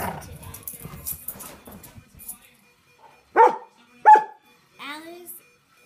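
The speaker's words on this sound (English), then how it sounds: "This is our dogs that are playing today." Pet dogs playing, with a few sharp close barks and yips after a stretch of scuffling and soft vocal noise, loud and spaced about a second apart.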